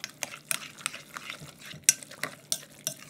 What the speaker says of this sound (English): So we're gonna give this a mix.